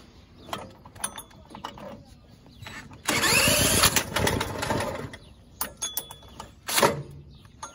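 A small gas engine is electric-started in an attempt to turn a diesel. About two seconds of loud whirring cranking sit in the middle, with scattered mechanical clicks and clanks before and after.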